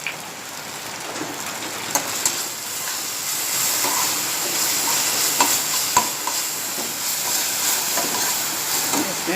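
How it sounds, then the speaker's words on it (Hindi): Eggplant fries with onion and green chilies for baingan bharta, a steady bright sizzle broken by occasional scraping stirs of a spoon in the pan. "ये देखिए, प्याज और हरे मसाले में बैगन अच्छे से पक गया है।"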